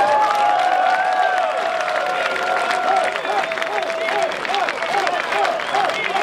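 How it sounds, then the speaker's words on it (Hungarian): A concert audience in Ajka applauds the keyboard player, a steady broad wash of clapping and crowd noise with cheering voices rising over it throughout. "neki a legnagyobb tapsot"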